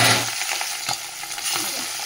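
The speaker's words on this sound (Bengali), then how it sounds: "ওদিকে তো মাছ ভাজা বসিয়ে দিয়েছি" Fish frying in hot oil in a home kitchen, a close hissing sizzle with bursts of spattering and stirring noises, steady and fairly loud with no talk.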